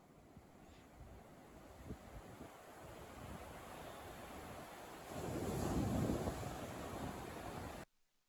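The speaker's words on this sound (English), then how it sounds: "Beautiful white sand beach, sunny day, sound of the ocean." Ocean surf washing steadily onto a white sand beach in Nova Scotia with a soft hiss, swelling louder as a wave breaks near the end before cutting off.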